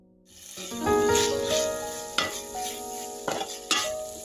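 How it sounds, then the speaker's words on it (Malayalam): Beetroot pickle stirred in a pan after vinegar is poured in, giving a steady close sizzle with a few sharp spoon scrapes and clinks against the pan. "ഇച്ചിരി വിനാഗിരിയും കൂടെ ഒഴിച്ചു കൊടുക്കുകയാണ് ഇതൊന്ന് ലൂസാക്കാൻ വേണ്ടി"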